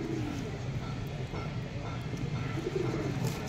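A pair of coloured Tota-shape pigeons coo softly and repeatedly in a low, throaty rhythm, close by, with faint background rustle and a voice speaking at times.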